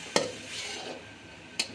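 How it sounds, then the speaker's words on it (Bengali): Nuna greens being stirred in a pan while they fry, with two sharp scraping clinks a moment apart over a faint, steady sizzle. "এখন আমি আবারও ঢাকনা উঠিয়ে দিচ্ছি আর নেড়ে চেড়ে দিচ্ছি।"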